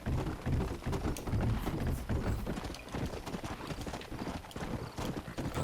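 Horse hooves in the video game Red Dead Redemption gallop in a fast, steady clip-clop rhythm, loud and close, with a continuous rumble and occasional sharper taps throughout.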